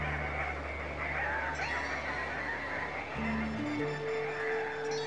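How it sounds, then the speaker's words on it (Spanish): An Andean cock-of-the-rock (Rupicola peruviana) in cloud forest gives faint, honking, nasal calls over a constant low background hum. "Aquí está, el gallito de las rocas. Nombre científico, Rupícola peruviana"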